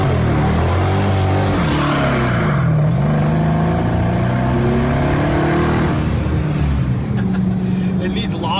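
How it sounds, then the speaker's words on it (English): A heavy, modified police car's engine is revved hard, its pitch sweeping up and down in repeated throttle blips that sound loud and close, with no talk over it. "It's a heavy car, so it's so easy to just rip the throttle."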